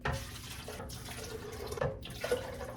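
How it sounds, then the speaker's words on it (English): Water is poured into a blender jar holding soaked nuts, a soft, steady trickle and splash at close range with a few faint drips, and no one speaks. "Then I'm gonna do 3 cups of water."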